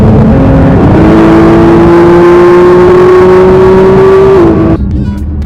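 A Porsche GT3 cruising on an Italian motorway: a loud, steady engine drone holding one pitch, with a brief shift in tone near the start and another near the end, under constant road and wind roar.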